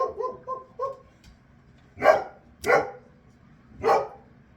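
A dog barks indoors in three loud, separate barks spaced about a second apart. Before them come softer, shorter whimpering yips.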